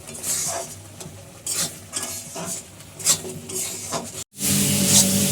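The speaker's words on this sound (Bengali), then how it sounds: "দেখতে পাচ্ছ ভালো করে নেড়ে নেড়ে তোমাদেরকে পুরটাকে এমনি কিন্তু টাইট করে নিতে হবে।" Date palm jaggery and milk filling stirred in a pan for milk puli pitha: scraping, sizzling stirs in uneven strokes, fairly close, with a brief silent gap near the end.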